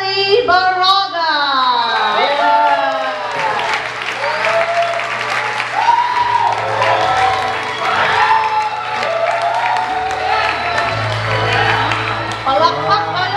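Wedding guests applaud steadily and cheer at a pastor couple's renewal of vows, with loud sustained clapping under excited shouts and voices throughout.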